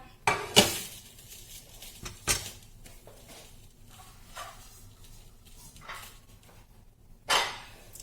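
A knife cuts a pizza-style sandwich on a non-stick pan: a few sharp metallic scrapes and clinks spaced over several seconds, fairly quiet, with soft shuffling between them.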